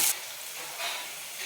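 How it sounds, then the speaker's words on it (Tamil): Onion and garlic cook in a pan with a soft, even sizzle and a brief stir at the start. Faint and close, with no talking. "சேர்த்துட்டு ஒரு 2 நிமிஷம் நல்லா வதக்கிக்கலாம்"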